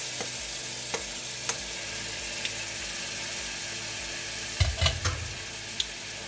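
Drained Ombidi leaves, prepared Namibian style, sizzle steadily in a hot pan while a spoon stirs them, with faint scrapes scattered throughout and a cluster of louder knocks and scrapes toward the end.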